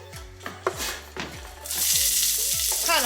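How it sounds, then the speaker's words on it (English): Onion tipped into hot oil in a pan for lasagna's ground beef, first a few clinks and taps, then a sudden loud, steady sizzle that holds to the end, close by with no talk. "I have oil heating in this pan, and I am going to add"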